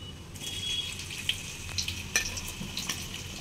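Onions and cumin seeds frying in hot oil for an Indian egg bhurji, giving a steady soft sizzle with occasional small pops and crackles, close and moderately quiet, with no voices.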